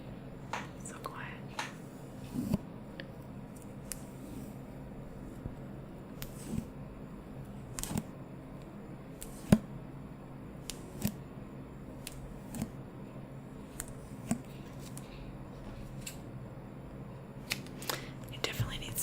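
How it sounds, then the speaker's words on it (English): Strips of electrical tape pulled and snipped with scissors, heard as soft crinkles and sharp little clicks scattered across a very quiet, close-up recording, with faint whispering in places. "I have some electrical tape. We're gonna use just a little bit. You'll hear that."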